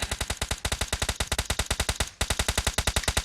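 Rapid automatic gunfire in PUBG Mobile, a dense, even stream of loud close shots with one brief break partway through and no talking over it.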